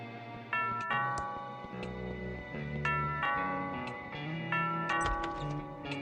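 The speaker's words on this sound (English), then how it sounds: "That sounds like the doorbell." In the point-and-click video game Thimbleweed Park, a doorbell chimes in repeated bright two-tone dings over soft game background music, with no voices.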